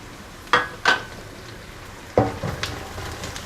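Garlic, green chili and curry leaves dropped into hot oil with browned onions in a pan, giving a few sharp sizzling bursts that trail off into a softer crackle, close by with no talk.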